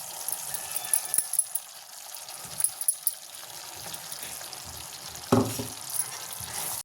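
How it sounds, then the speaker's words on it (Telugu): A soft, steady sizzle from a pan as a ground spice powder for tamarind rice is fried, with occasional scraping and stirring sounds, and a brief clatter partway through. "ఒక నిమిషం పాటు ఫ్రై చేసుకుని ఇంకా స్టవ్ ఆపేద్దామండి"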